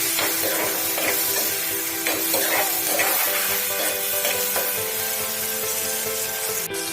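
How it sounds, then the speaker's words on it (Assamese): Chicken pieces with tomatoes sizzle and fry in a pan while being stirred, a steady hiss broken by scraping and knocking strokes, close and fairly loud. "আৰু বিলাহীখিনি গলি যোৱালৈকে একো ভাজি থাকিম"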